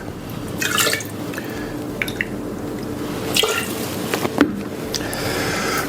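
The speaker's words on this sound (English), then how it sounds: "So I'm just going to rinse this out a little bit." Water splashes and drips as a cocktail glass is rinsed, giving scattered close trickles and droplet hits that run unevenly throughout.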